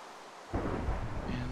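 Thunder rumbles in a Minecraft rainstorm, a sudden low roll that swells in after a quiet moment and carries on loudly under a faint rain hiss.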